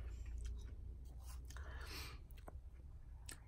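Slices of mini watermelon are chewed at breakfast, producing faint, soft juicy bites and squelches close by over a low background hum, with no talking.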